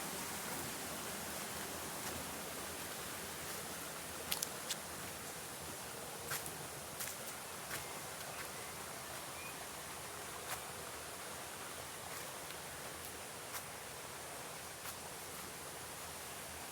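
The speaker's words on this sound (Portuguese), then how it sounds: "Olha lá uma cachoeirinha." A small waterfall, a soft steady rushing hiss of falling water heard at moderate distance, continuous throughout, with a few faint clicks and knocks and no voices.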